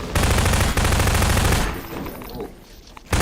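Dense, loud automatic gunfire from the Half-Life 2 video game, a sustained rattling burst for about a second and a half that then cuts away to quieter game ambience, with a sharp shot returning at the very end.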